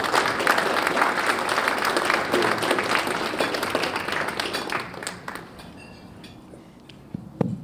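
A welcoming audience applauds General George Casey at a Global Engagement Award event, steady dense clapping filling the room for about five seconds before thinning out to a few scattered claps and near silence.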